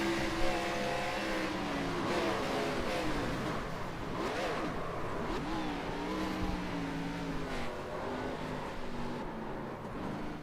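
A NASCAR race car at Talladega holds its throttle in a loud, sustained engine roar with sweeping pitch changes, including a brief lift and rise around the middle, heard alone without talk.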